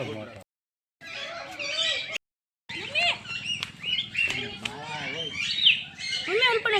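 A yellow parrot squawks and chatters in shrill bursts nearby at a park in Rajkot, mixed with people talking over it.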